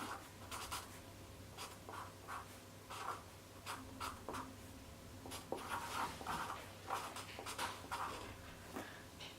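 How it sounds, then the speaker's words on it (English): A pen scratches on a homemade Ouija board in short, repeated strokes, quiet and close, with faint background noise and a dog panting softly. "We need to write the Ouija board."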